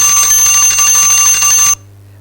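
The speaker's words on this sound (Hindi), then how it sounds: "बहुत बच्चा ये घंटी सुन के भाग जाएगा" A loud electric school bell rings continuously for nearly two seconds to signal time out during a CS Executive class on the Constitution of India, then cuts off abruptly into quiet.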